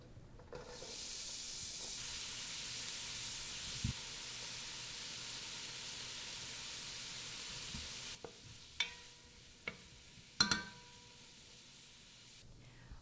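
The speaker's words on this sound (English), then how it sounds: "Once the pan is heated, add your onion and garlic to the pan." Onion and garlic hit a heated pan and set off a steady, soft hiss of sizzling. It lasts about eight seconds, and then scattered stirring clatters and knocks follow over a quieter sizzle.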